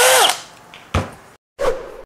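A Bosch power drill in plain drilling mode without impact, fitted with a 5 mm tile bit, gives short loud bursts of whirring, starting and stopping in three separate spurts with brief silences between.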